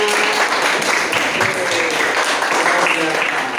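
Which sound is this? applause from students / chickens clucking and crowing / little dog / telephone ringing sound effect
applause from students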